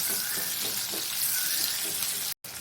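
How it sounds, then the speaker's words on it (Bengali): Chopped onion sizzling in hot oil in a pan, a steady close frying hiss with faint clatter, cutting off briefly near the end. "একটা কুচানো পেঁয়াজ দিয়ে দিলাম। পেঁয়াজটা একটু হালকা হালকা ভাজা হয়ে এলে বাদ বাকি মশলাগুলো দিয়ে দেবো।"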